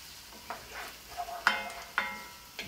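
Onions frying in a pan for boeuf bourguignon, a soft steady sizzle close by with a few sharp clicks and stirring scrapes of a utensil against the pan, no talking.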